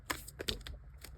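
Oracle cards shuffled by hand in a few quick, soft riffling and tapping bursts, close and quiet with no talking.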